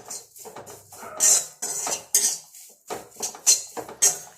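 Henna and curry leaves being dry-roasted and stirred in a pan for homemade hair dye, with repeated scraping and clinking of a utensil against the metal, a steady series of close, fairly loud strokes with no talk.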